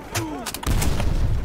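A grenade bursts in Call of Duty: World at War with a heavy boom that swells into a rumbling roar, preceded by a brief shouted voice and a whistling tone.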